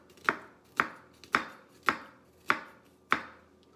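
A knife chops onion on a cutting board in six evenly spaced, crisp, close knocks, each fading quickly, with no talking.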